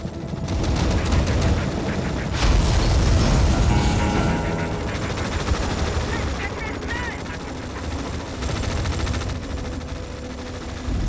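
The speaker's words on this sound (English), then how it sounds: "Artillery fire on our position." Artillery and gunfire in Tom Clancy's EndWar, a dense barrage of booming impacts and rapid bursts, loud and continuous, with radio-style voices talking over the battle.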